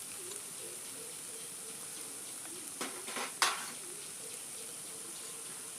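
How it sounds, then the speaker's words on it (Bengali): Papaya flowers and potatoes sizzle gently in a frying pan with a faint, steady hiss, broken by a couple of brief louder scrapes or stirs near the end. "পেঁপের ফুল আর আলুগুলো দিয়ে আমি 2-3 মিনিট ভেজে নিয়েছি।"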